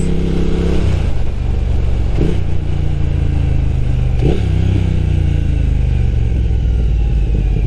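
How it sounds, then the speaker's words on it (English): Motorcycle fitted with Arrow Nichrom Pro-Racing silencers revving loudly close by, a deep rumbling exhaust note that rises in two sharp throttle blips over a steady idle, with no talk. "when I'm riding, I can finally hear the exhaust note"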